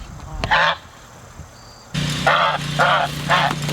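A goose kept on a small farm with turkeys gives loud, close honks, one short call followed after a pause by three more in quick succession.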